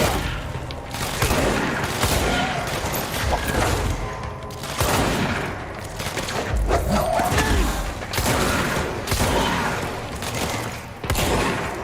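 Shotgun blasts in the action game Control, a run of loud booming shots spaced a second or two apart amid dense combat noise and impacts, continuous and close.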